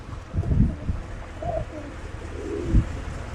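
Pigeons cooing nearby, a few soft low throaty calls rising and falling, with quiet background noise between them.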